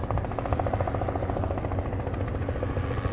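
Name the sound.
helicopter flying overhead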